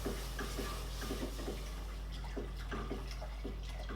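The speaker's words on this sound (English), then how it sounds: "Slowly add the milk and keep stirring" Milk is poured into a simmering meat sauce for lasagna while it is stirred, giving soft wet splashing and sloshing with a few utensil clinks over a low steady hum; quiet and close, with no talking.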